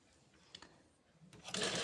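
Sewing machine stitching a folded straight fabric strip, a soft mechanical whir that rises and grows louder toward the end after brief quiet taps.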